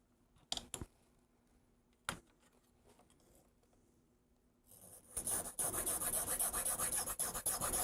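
A flat metal file rasps across the ends of a plastic MIDI synth kit part, first with a few scattered taps and light scrapes, then a loud, continuous close-up grinding rasp for the last few seconds.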